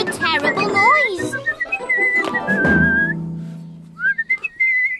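A cartoon creature called the Bristly Whistler whistling loudly in a garden, with shrill, swooping whistled notes that rise and fall, mixed with voices and other cartoon sounds.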